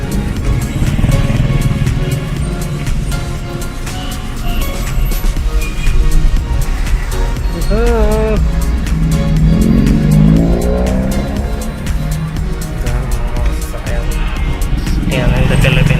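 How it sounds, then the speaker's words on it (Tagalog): Busy street traffic in the Philippines, with cars and motorcycles passing close by in a steady, loud wash of engine noise and tire roar, some revving and a brief squeal-like whine midway. "traffic talaga pala"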